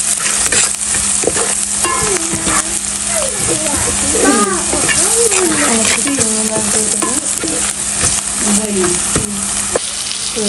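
Shrimp frying in a pan, with a loud continuous sizzle and scraping stirring throughout, while a voice talks over the cooking.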